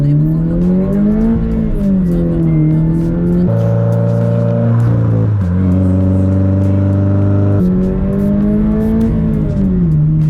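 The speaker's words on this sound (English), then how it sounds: "another thing to note is the exhaust, right? Listen to this thing." A sports car exhaust revs and drones loudly and close, the engine pitch rising and falling, then jumping higher and holding before settling back.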